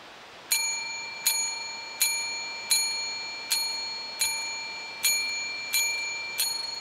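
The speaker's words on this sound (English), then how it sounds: "This is a bell." A handheld bell rings out eight times at a steady pace, each strike clear and ringing with a bright metallic tone and short decay, during a nighttime ghost investigation in a cemetery.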